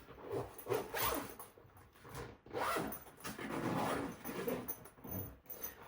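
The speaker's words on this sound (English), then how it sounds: "Let me zip these up." Quiet zipper pulls on wash bags, several short rasping zips in quick succession with soft handling rustle between them, close up.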